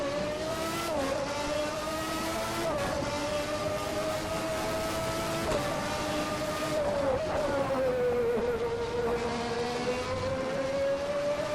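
A McLaren MP4/6 Formula 1 car in the Assetto Corsa racing sim screams at full throttle downhill, a loud, sustained high-pitched engine wail with brief dips at gear shifts, then a smooth rise and fall in pitch.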